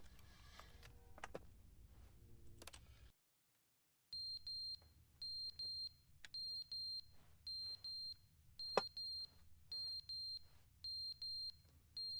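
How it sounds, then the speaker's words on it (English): A beeping alarm in the video game The Stanley Parable sounds a steady run of sharp, high, evenly spaced beeps, loud and close, after a few seconds of other game noise and a brief silence. "Making that horrible beeping sound."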